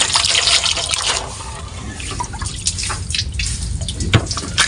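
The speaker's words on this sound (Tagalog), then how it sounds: "Tapos lagyan natin ng tubig na malamig" Cold water running and splashing steadily into a container while boiling eggs, a continuous wet hiss with a few small clinks near the end.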